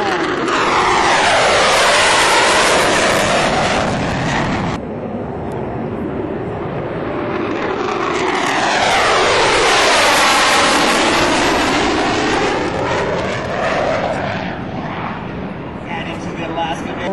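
F-15 Strike Eagle jets roar past during a US Air Force joint force demonstration in Alaska, a loud sweeping jet engine noise that rises, cuts off, then surges again in a second long pass.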